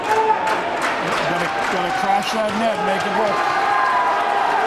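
Excited crowd noise at a high school boys hockey game between Medfield and Medway, a steady dense murmur of cheering and voices filling the rink, with someone talking close over it.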